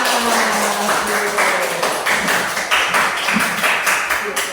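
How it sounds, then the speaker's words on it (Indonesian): Scattered hand clapping from a small group fills a classroom, steady and fairly loud, with some murmured voices mixed in. "Tepuk tangan untuk kita semua."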